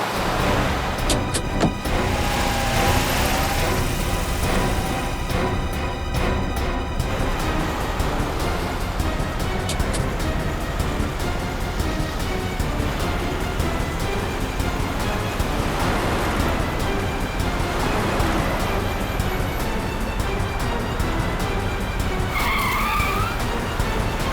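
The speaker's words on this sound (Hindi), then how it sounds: "इस तरह से गाड़ी चला रहा है, कहीं किसी को नुकसान ना पहुंचा दे।" A car is driven recklessly, its engine roaring and its tyres skidding and screeching without a break. The sound stays loud and constant, with dense road noise and a few higher squeals near the end.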